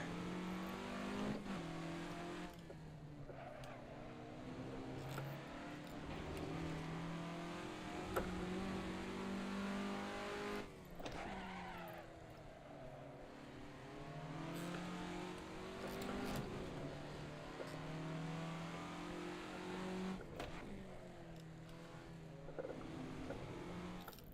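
A 1967 Formula Ford race car engine in the Assetto Corsa video game revs and drops repeatedly through a lap, rising and falling in pitch as the throttle is worked, steady and unbroken without talk.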